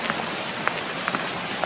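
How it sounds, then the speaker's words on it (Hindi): Heavy rain falls steadily in a dense, hissing wash, with occasional louder drops or splashes standing out. It stays continuous and close, with no voices. "जोर की बारिश शुरू हो गई।"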